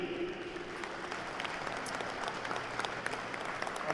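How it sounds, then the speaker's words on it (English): A crowd applauds the host committee, the Waterloo Wolves, at a U13 AAA All-Ontario hockey championship medal presentation; sustained, dense clapping from a large indoor audience fills four seconds, with scattered louder claps and faint voices beneath. "a big round of applause for the host committee, Waterloo Wolves, on a fantastic week"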